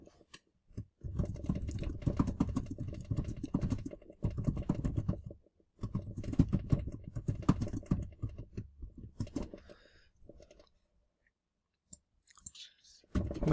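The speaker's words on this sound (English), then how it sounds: "So yeah, you can just start typing, do what you want." Rapid clicking of keys on a computer keyboard, close and fairly loud, arriving in dense bursts of several seconds separated by short pauses, with a quiet gap near the end before a few final taps.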